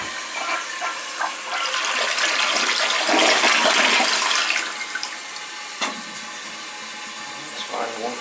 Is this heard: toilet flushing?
yes